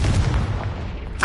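A Confringo blasting spell detonates in Hogwarts Legacy, a dense rumbling boom rolling continuously through the moment, with a brighter burst flaring right at the end.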